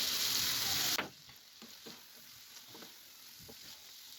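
Salted dried hilsa fish and potatoes fry in a pan with a loud, bright sizzle that drops sharply after a second when a lid goes on, leaving a muffled, quieter crackle.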